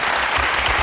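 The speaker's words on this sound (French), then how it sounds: "On vous applaudit." A TV quiz show studio audience claps in dense, loud, continuous applause through the whole brief moment.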